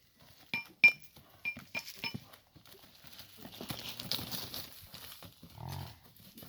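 Horse hooves clip-clopping in a few sharp, uneven steps, followed by a softer shuffling and a brief low snort or whinny near the end.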